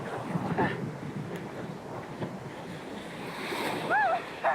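White-water rapids on the Ocoee River in Tennessee, where the current splits in different directions: a constant close roar of rushing water, with a few faint whistle-like sounds over it near the end.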